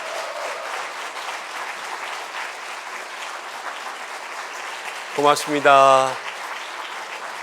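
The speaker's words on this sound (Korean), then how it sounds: "우리 들어갈 때까지 박수로 함께 축복했으면 좋겠습니다" Church congregation claps steadily at a deacons' dedication service, a continuous crowd applause that carries on while a voice speaks briefly near the end.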